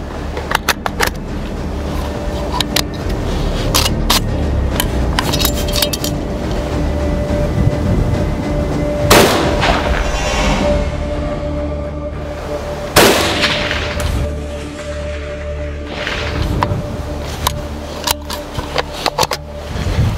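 Gunfire during a weapons test against bulletproof glass and a melon: a few loud, sharp reports stand out over a noisy outdoor background with rumble and a steady tone, and sparse ringing clicks between shots.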